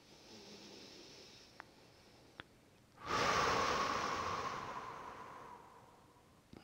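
A slow, deep breath during guided meditation: a quiet lead-in with a couple of soft clicks, then a long, close exhale through the mouth that swells and gradually fades, with no talk over it.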